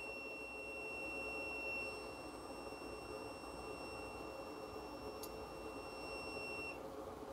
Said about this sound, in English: contacts will close, as you will hear from the continuity feature of my multimeter